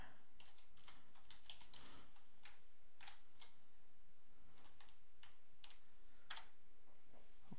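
A password is typed on a computer keyboard while joining a Windows PC to a domain: irregular clusters of close, crisp key clicks with short pauses between, no voices.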